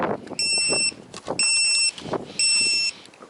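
A Connex Falcore drone sits near the pilot and gives three evenly spaced high electronic beeps, loud and close, with handling noises and a low rumble between them.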